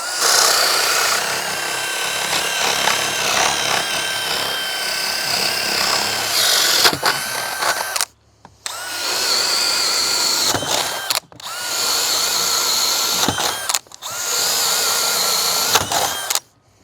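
A power drill with a FlexVolt battery grinds through a wooden bottom plate with a knot in several long, loud bursts separated by short pauses, the motor whining steadily as each bore is cut.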